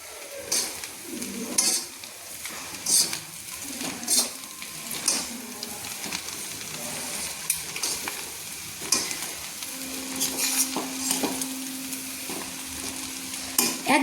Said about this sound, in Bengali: দিয়ে ভালো করে আবারও মিক্স করে নিচ্ছি